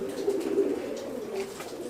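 Madrasi pigeons coo in a soft, continuous low murmur of overlapping calls, close by and steady throughout.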